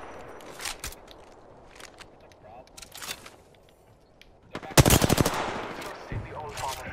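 Bursts of rapid automatic gunfire in a battle-royale video game, a couple of short volleys at first, then a loud close burst followed by scattered shots.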